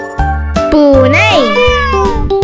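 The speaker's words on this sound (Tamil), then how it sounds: "பூனை எப்படி கத்தும்? Meow meow." A cat's meow in a children's animal sounds lesson: a loud, close, drawn-out meow rising and falling in pitch, with short tonal bursts around it.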